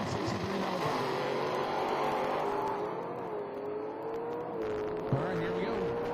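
At an IHRA Pro Am drag race, a 1967 Camaro and a 1963 Nova rev with a steady engine drone and rising tonal whine, a fairly quiet background beneath a track announcer's voice.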